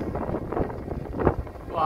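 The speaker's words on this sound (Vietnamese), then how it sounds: "gió dưới rất lộng anh em ạ" Strong wind buffets a microphone outdoors while a large kite is flown, a continuous rushing roar with gusty swells, someone talking over it throughout.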